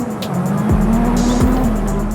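A 1980s Group B rally car roars close by, its engine note sweeping while the tires squeal through a slide, loud and brief.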